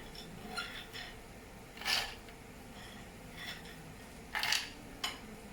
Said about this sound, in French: je prends ici un hachoir. Et je viens